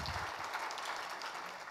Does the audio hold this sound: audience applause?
yes